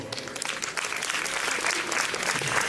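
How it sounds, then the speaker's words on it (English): Steady applause rises from the audience at a music club tribute evening, a dense wash of many hands clapping that grows slightly louder toward the end. "A round of applause for all of you."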